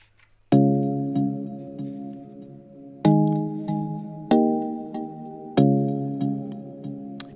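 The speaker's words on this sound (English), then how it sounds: "I had to layer the same chord progression with another sound from Harmless. It's kind of plucky" Plucky synth layer from the Harmless plugin in FL Studio plays an afroswing chord progression, four sustained harmonic chords struck about every 1.5 seconds with small ticks between, clear and alone.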